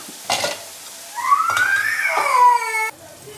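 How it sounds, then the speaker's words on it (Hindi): Chopped tomatoes with masala sizzle loudly in a pan, stirred with brief scraping knocks, a close crackling hiss with a rising whistle-like tone in the middle. "देखिए हम टमाटरों को अच्छे से इसको हम पका लेंगे, इसका हम मसाला भून लेंगे एक अच्छा सा।"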